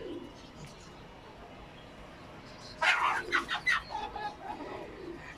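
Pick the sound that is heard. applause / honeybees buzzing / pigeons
pigeons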